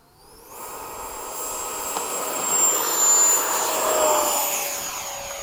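An F-5 and an L-39 jet take off side by side at PCC, a loud jet roar swelling in within the first second and holding steady with a high turbine whine for the rest of the clip, with no talk.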